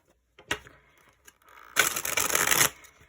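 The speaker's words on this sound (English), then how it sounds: "I feel like shuffling one more time for you guys" Tarot cards being shuffled by hand during a love reading: a short tap, then a dense riffling burst lasting under a second, close and fairly loud in a quiet room.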